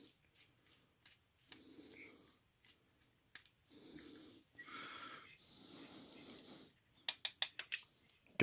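A small screwdriver works a screw out inside a Logitech G500s mouse, with repeated soft scraping turns, pauses between, then a quick run of sharp ratcheting clicks near the end; no talk.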